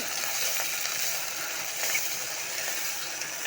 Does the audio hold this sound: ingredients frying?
yes